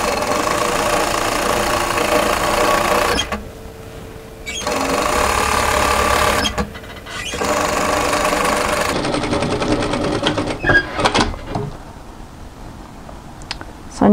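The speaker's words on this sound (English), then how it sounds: "I'm going to sew another seam parallel to the first on the folded" A sewing machine runs steady stretches of stitching as it sews a second parallel seam along the folded hem of a tunic, stopping briefly between runs and ending in short uneven bursts.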